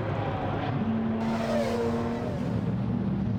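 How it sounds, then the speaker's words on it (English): GT4 race cars roll into grid position at Spa-Francorchamps, their engines giving a steady low drone with one car's rising tone passing across. "The last couple of cars just making their way into position as we get set to go racing"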